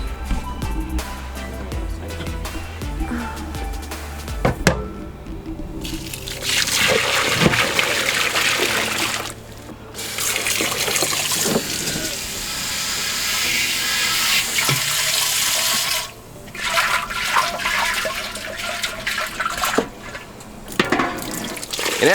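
Water splashes and gushes in bursts while rinsing out a farm milking machine, strong washes separated by brief pauses, close by and with no talking.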